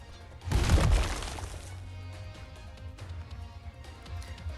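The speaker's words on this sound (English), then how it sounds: "Siege's hammer smashes fiercely against the ground" A heavy war hammer slams into the ground in an Arknights battle scene, one loud crashing impact with shattering debris, then a low rumbling tail of settling dust and faint background ambience.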